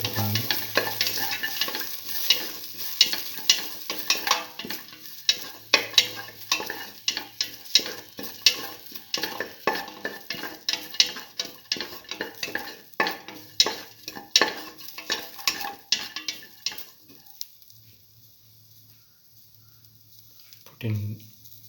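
Garlic and salt fry in a pan while a spoon stirs and scrapes repeatedly, bringing soft sizzling and rhythmic clinks and scrapes close up, ending in a brief quiet stretch.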